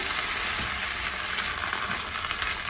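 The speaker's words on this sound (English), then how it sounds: "I just added our 5 cups of corn, which is so much. Stirring that in." Five cups of corn stirred into a large pan of caramelized onions, a steady close sizzle with soft scraping from stirring throughout, and no one speaking.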